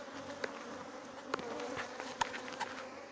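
Honey bees buzzing at an open hive during brood nest work, a steady close hum with a few sharp clicks and bumps from handling.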